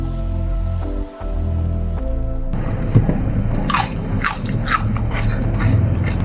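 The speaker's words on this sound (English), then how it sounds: "That crunch though." A crunchy homemade garlic cucumber pickle is bitten and chewed close up, sharp crisp crunches and wet chewing after a quiet musical start, with no one talking.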